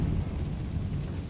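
A Confringo spell blast in the video game Hogwarts Legacy erupts as a deep, rumbling explosion inside a closed mine, loud and sustained for a moment.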